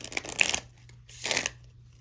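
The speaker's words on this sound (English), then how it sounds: "I have been shuffling for a minute" Tarot cards being shuffled by hand in two brief bursts of papery riffling, close and fairly quiet, with a pause between and no voices.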